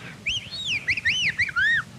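A voice imitates the mating call of an Australian web-footed whangdoo bird with a run of loud warbling, gobble-like whistled hoots rising and falling in quick bursts, close and alone.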